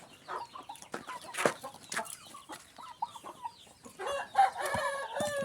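On a farm raising Burmese chickens, roosters crow repeatedly while hens cluck and chatter around them, a busy mix of nearby and farther calls with no talk.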